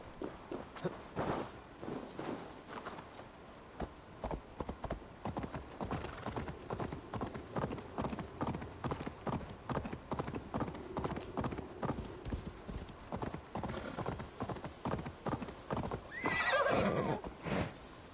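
A horse in Assassin's Creed Valhalla clip-clops steadily at a walk, its hoofbeats soft and continuous, then gives a whinny near the end with little talk over it.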